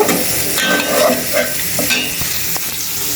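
Koi (climbing perch) fish frying in a pan, a continuous close sizzle with occasional spatters and utensil scrapes, no voices.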